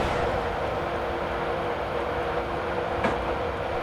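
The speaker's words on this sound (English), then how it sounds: "I've now idled the power to allow the train to coast" Class 91 electric train coasting at speed in Train Simulator 2015, a steady broadband rumble and rush from the cab with faint rail clatter and one brief click, continuous and even throughout.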